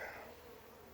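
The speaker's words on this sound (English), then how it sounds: "Got to be a real small cluster of bees." A small cluster of honeybees clinging to a box gives a faint, steady buzz over about a second.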